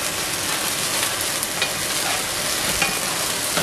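Brandy flambéing in a hot pan for a filet mignon mushroom sauce gives a loud, dense, continuous sizzle and crackle, steady throughout with no voices.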